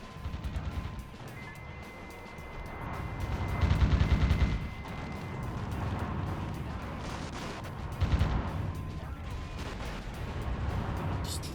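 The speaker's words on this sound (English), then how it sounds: "Just look at the carnage wrought by these multi-missile launchers" Multi-missile launcher rockets bursting in a video game, a continuous barrage of booming explosions and crackling blasts with louder surges, fairly distant and rumbling.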